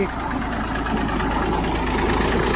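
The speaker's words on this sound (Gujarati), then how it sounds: "અત્યારે છે ને આપણે દરિયા કિનારે બધા ટ્રેક્ટર હાલે છે" Several tractors running at night on a seashore, a steady low engine rumble and idling drone that continues without a break at moderate distance.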